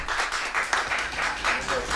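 An audience at a poetry and rock-ballad evening applauds a poet, with steady rhythmic clapping filling the room from start to finish.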